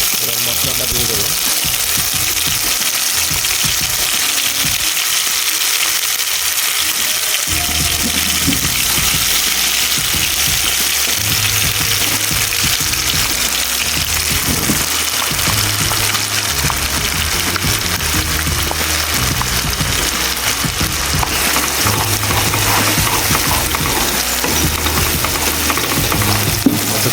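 Spice paste for a desi-style chicken curry sizzles and is stirred in a pan, a loud, sustained crackle with scraping strokes and a voice talking over it at times.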